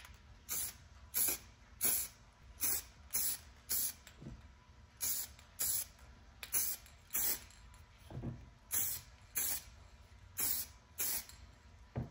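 Colorbond spray paint hisses from an aerosol can in a dozen short, regular bursts as another coat goes onto a BMW E60 M5 steering wheel, close and steady with brief pauses between passes.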